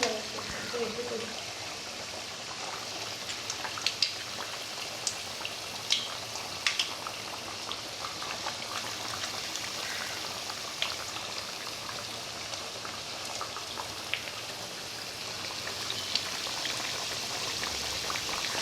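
Thattai rice crackers deep-frying in hot oil over medium heat for a crisp Deepavali snack: a steady, dense bubbling crackle with scattered sharper pops, with speech occasionally heard over it.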